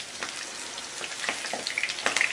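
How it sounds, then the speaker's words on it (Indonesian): Tofu fries in hot oil with a steady sizzling hiss and scattered crackling pops, close and moderately quiet, with no voices. "Kalau sudah panas, kita masukkan tahunya. Dan kita akan goreng sampai nanti warnanya kecoklatan"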